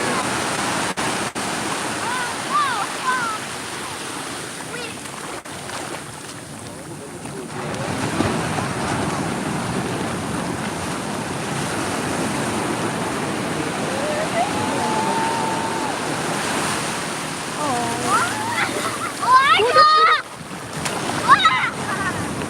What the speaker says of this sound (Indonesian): Makin lama makin gede ombaknya.